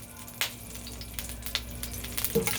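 Butter melts in hot olive oil in a pan for chicken Marsala, giving a soft, quiet sizzle scattered with small crackles and pops.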